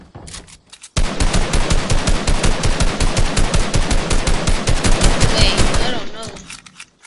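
Rapid automatic gunfire from a video game, a loud sustained burst of evenly spaced shots lasting several seconds, then tapering off.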